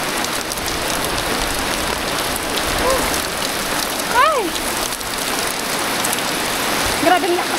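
Heavy rain pours down steadily in a rural province setting, a dense continuous hiss of drops on surfaces throughout, with a brief exclamation from a voice partway through.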